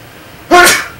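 A single loud, close sneeze, a sharp burst that tails off quickly against a quiet background.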